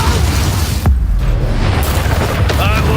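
Fire spell cast in the Hogwarts Legacy video game: a loud, dense whooshing burst and boom with crackling, continuous and heavy throughout, with a voice heard over it.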